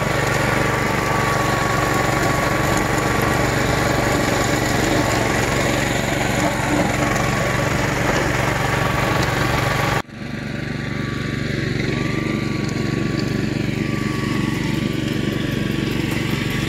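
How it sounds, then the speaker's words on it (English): A brush mower clearing weeds on rural land roars loudly and continuously with a rough engine drone, broken by a brief sharp dip partway through before it carries on. "there it is, the brush mower in all its glory"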